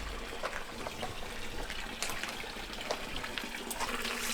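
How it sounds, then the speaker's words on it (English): Fresh water runs steadily from an outdoor pump at a shack used for washing vegetables at a house in Japan, a continuous close gushing and splashing with no talk. "it's like fresh flowing water that still works"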